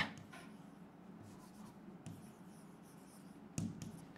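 Marker or chalk writing on a board during an Arabic lesson, a soft continuous scratchy rubbing with a few sharper taps, fairly faint and close, no talking.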